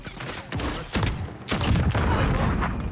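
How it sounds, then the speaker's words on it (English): Several shotgun blasts in the game Call of Duty: Modern Warfare go off in quick succession, each a loud, sharp boom with a short decaying tail, under occasional game sounds. "it's a shotgun at that range"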